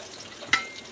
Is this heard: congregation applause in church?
no